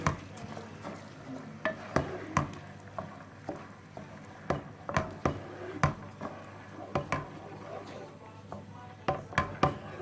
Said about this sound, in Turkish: Şimdi yıkadığımız bakın pirinçlerimi de ekliyorum. Güzelce karıştıralım.